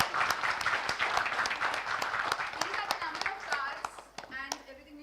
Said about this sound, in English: Huge round of applause to everyone.